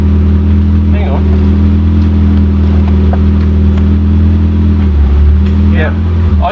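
Ford TX3 Turbo with a B6T twin-cam engine idles steadily and loudly up close, a constant low drone with faint voices talking over it.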